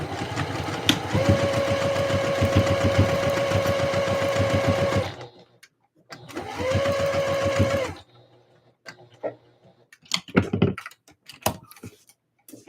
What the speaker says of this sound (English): decrease stitch length. Go to the seam allowance, and I'm going to stitch this all into place